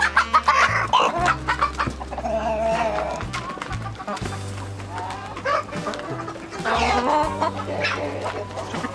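Flock of hens clucking and squawking busily while feeding on grain, with overlapping calls and occasional louder cackles throughout, close and steady.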